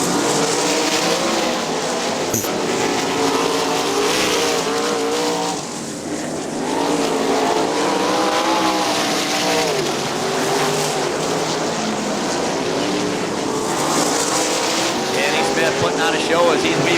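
Sprint cars roar around Winston Motor Speedway at a Great Lakes Outlaw Sprint Series race, engines droning loudly and continuously as the pack passes, with a brief dip midway and an announcer talking over the noise.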